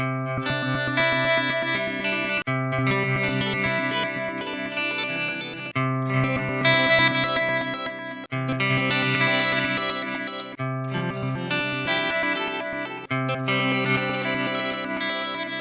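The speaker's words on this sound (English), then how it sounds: "this is gonna give us some of those like weird particle-y type sounds" An electric guitar plays chords and notes through a warped, glitchy delay on a Line 6 HX Stomp, with stuttering bright particle-like fragments flickering and scattering above the tone.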